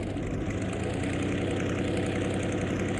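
A Curtiss P-40E Warhawk's piston engine idles steadily with a deep propeller drone while the fighter taxis onto the runway, a constant loud rumble with no break or talk.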